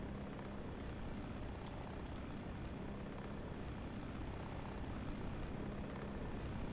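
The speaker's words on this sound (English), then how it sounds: "Wow, you can hear him actually taxiing. And the rotor's spinning up." Helicopter rotor spinning up in Microsoft Flight Simulator, a steady droning engine and rotor hum, loud and continuous throughout with no talk over it.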